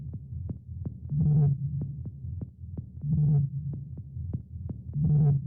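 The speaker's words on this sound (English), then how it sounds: "Let's distort that, have a little listen." A distorted techno drum-and-bass element plays in a steady looping groove, sharp kick-like hits repeating with a gritty, saturated midrange swell that rises every couple of seconds, loud and dense with no voices.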